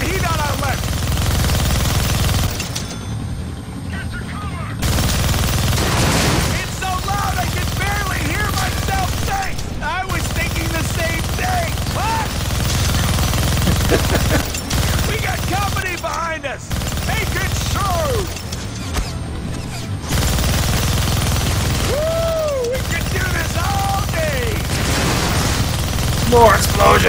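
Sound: turret gunfire and explosions in Deadpool video game

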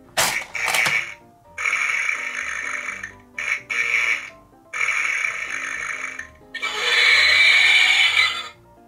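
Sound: toy dinosaur egg-hatching sound like an unpleasant fart

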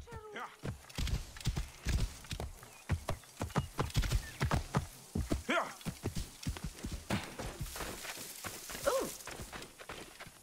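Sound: horse hooves clip-clopping in video game Assassin's Creed Origins

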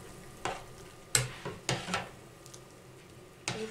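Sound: stirring egg mixture into chicken soup in a pot

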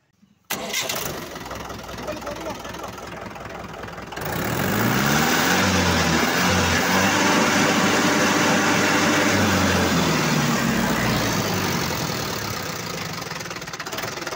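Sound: Mahindra 475 DI tractor engine starting and idling

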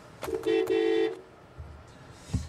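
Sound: car horn

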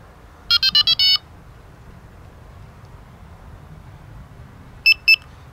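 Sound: Delkim TXI-D bite alarm beep confirming menu entry

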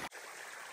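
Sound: creek water flowing, Woods Creek

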